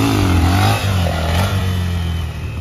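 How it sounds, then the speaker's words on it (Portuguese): A Honda XRE 300 motorcycle revs hard for a wheelie nearby, its engine note loud and rising with a brief dip before climbing again. "A Jamile vai empinar ali."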